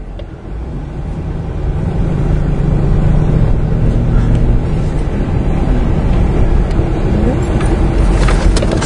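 A 2002 Ford car, freshly repaired after a rough-idle fault traced to the EGR valve, drives along a road. Engine and tyre noise form a steady broad rumble that builds over the first two seconds and then holds loud and even throughout.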